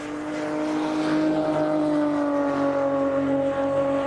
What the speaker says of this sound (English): Let's just see if we can listen to his car as he comes around.